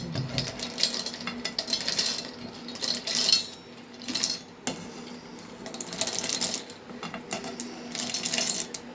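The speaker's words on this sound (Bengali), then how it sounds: "আস্তে আস্তে বাদামগুলোকে এতে ঢেলে নিয়েছি" Roasted nuts are poured slowly into a container for a homemade dessert, producing light irregular clinks and rattling patter in several bursts with short pauses between them, close and fairly quiet.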